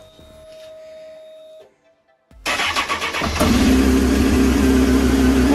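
Honda CBR 954 RR motorcycle engine cranking after a short quiet gap, then catching and settling into a loud, steady close-up idle with no voices.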